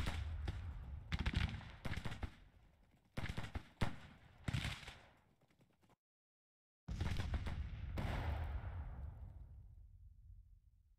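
Booming artillery fire on a Civil War battlefield in Grand Tactician, several separate heavy reports at irregular intervals, a pause, then a longer rumbling salvo that slowly decays.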